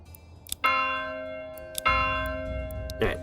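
A church bell rings in the Manor Lords video game, two loud resonant strikes a little over a second apart, each ringing on and slowly fading, with a third strike starting at the end.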